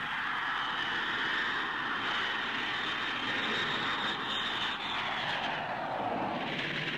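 Loud, continuous roar of Vulcan and Victor II jet bombers' Bristol Siddeley Olympus and Rolls-Royce Conway engines, steady and broad with a rushing high hiss, like bombers passing close overhead for several seconds.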